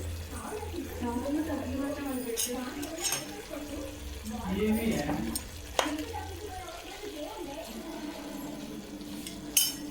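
Chicken for pickle simmers, sizzles and bubbles in a pan with a steady hiss, while people talk over it throughout; a couple of sharp clinks stand out.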